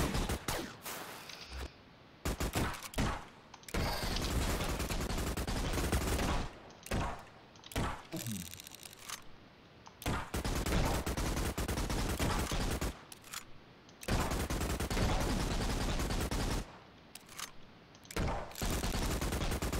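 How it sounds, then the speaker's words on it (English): Rapid gunfire in the video game 1001st Hyper Tower comes in repeated loud bursts separated by short pauses, sounding like a sustained fusillade. "Ten shots, I think that was."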